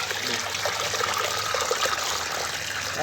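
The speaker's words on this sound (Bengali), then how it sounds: "এবার আমরা ঠিক সম পরিমাণের মধ্যে জল কিন্তু মিশিয়ে দিচ্ছি" Water poured into a strained mixture of tea leaves and mustard cake fertilizer, heard as a continuous trickling, splashing flow close by, steady and moderately loud with no talking.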